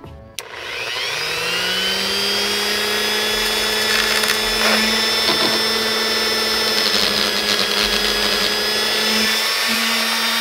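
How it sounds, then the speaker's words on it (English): A Dremel rotary tool spins up with a sharp start, then holds a loud, steady high-pitched whine as it grinds down a bump on a steering wheel part from a 1979 Nova, with pitch dipping slightly under load. "So I've got my Dremel rotary tool."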